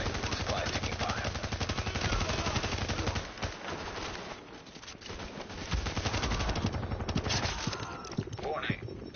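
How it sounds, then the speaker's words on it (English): Sustained automatic gunfire in The Division video game, loud rapid bursts rattling almost continuously, briefly easing in the middle before resuming at full intensity. "Warning, supplies taking fire."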